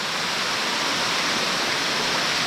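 The Rio das Pedras waterfall, running with muddy water, roars as a loud, steady, dense rush of falling water with no pauses or voices.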